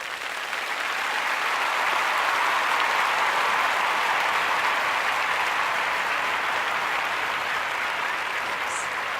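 Dense, steady applause from a large audience, a continuous wash of many hands clapping that swells slightly and holds for about nine seconds, with no talk over it.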